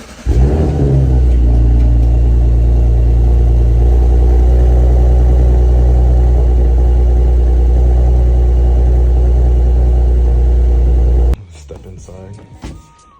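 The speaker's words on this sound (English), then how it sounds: "So we're gonna do a little startup here and give you guys a little exhaust clip." A car engine cranks and fires up, then settles into a loud, deep, steady exhaust rumble recorded close by that holds for about ten seconds before cutting off sharply, leaving quieter background sound.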